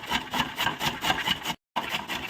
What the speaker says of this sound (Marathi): मी मोठ्याच किसणीने किसणार आहे चला आता किसून घेऊ चला गाजरं किसून घेते